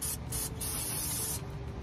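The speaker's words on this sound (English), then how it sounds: "I'm gonna take some brake cleaner, just something to" Brake cleaner hisses from an aerosol can onto a Dodge Charger brake caliper in several short close bursts, with no one talking.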